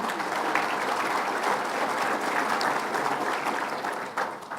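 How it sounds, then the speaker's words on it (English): Attendees at a New York state conference of mayors give a round of applause for a mayor, dense, sustained clapping from a sizable crowd, moderately loud and without speech. "Let's give a big round of applause to Mayor Bill Nelson"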